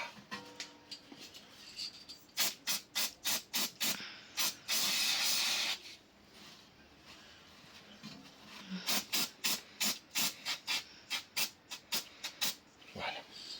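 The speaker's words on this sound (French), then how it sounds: "Donc, du spray cuivre." Copper grease spray on a brake disc during Golf 6 1.4 16V bearing work: a long hissing burst from the can, preceded and followed by quick rhythmic runs of short, sharp spray puffs, close by.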